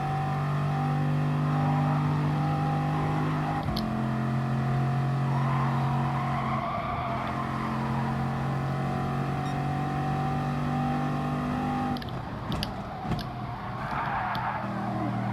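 Race car engine in Gran Turismo Sport during an FIA Nations Cup exhibition race, a loud steady high-pitched drone that steps down and climbs through gear changes, with scrubbing tyre squeal and brief bumps near the end.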